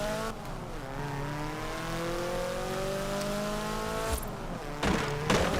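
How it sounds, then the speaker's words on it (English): Raspy turbocharged car engine in the Forza racing game, revving and sweeping steadily upward in pitch as it holds a sustained drone, with a brief louder burst near the end. "Let's hear the engine sound. That's a raspy engine. And it's turbocharged."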